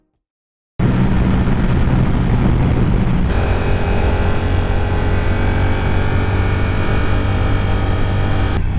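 A Yamaha sport motorcycle built on the MT-07 base rides along a winding road, its engine droning loudly and steadily with wind rush, starting abruptly after a brief silence.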